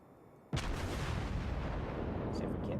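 A Tier VI American battleship, the New Mexico, fires a heavy HE salvo in World of Warships: one loud sudden boom followed by a long rumbling roll that fills the rest of the moment.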